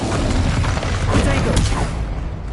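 A Bombarda blast spell goes off in a Harry Potter video game, a loud, dense rumbling boom that fills the whole clip with crackling debris and fades slightly toward the end.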